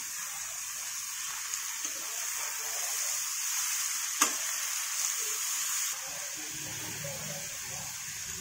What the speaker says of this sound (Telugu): ఇప్పుడు కట్ చేసి పెట్టుకున్న బీరకాయలు ముక్కలు ఇందులో వేయాలి.